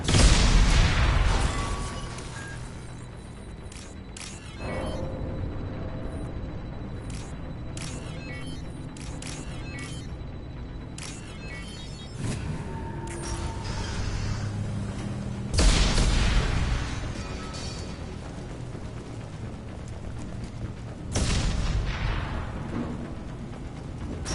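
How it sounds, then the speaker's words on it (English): Explosions in Mass Effect 2 Legendary Edition, several loud booming blasts spaced through a long stretch of rumbling combat noise, near and strong. "So much explosions everywhere"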